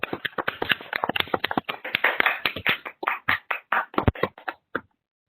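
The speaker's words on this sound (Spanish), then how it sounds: "Les pido por favor que activemos nuestros micrófonos para darle un fuerte aplauso." Applause from an online audience with microphones switched on at a virtual academic presentation session. Claps come in a rapid, uneven patter over several seconds, then thin out and stop.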